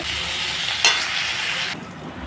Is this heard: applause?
no